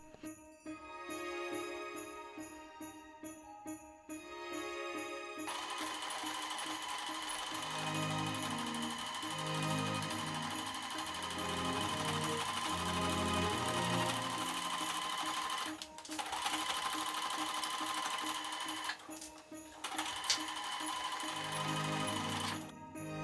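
A sewing machine stitches along the edge of a holiday stocking lining, its rapid mechanical whir running in bursts with brief stops and restarts, close and clear.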